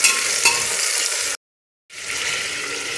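Onions with two tomatoes frying and being stirred in a pan for mixed dal tadka, a steady close sizzle with scraping stirs that cuts out briefly before the frying hiss returns.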